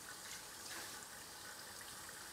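Steady stream of cold running tap water pours over boiled cauliflower to cool it, a continuous soft hiss of water with no talking.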